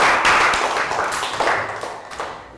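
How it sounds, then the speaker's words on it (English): Classroom round of applause in a Year 3 science lesson: a small group of children clapping together, a dense, steady patter of hand claps that fades slightly toward the end, with no talk over it. "Round of applause."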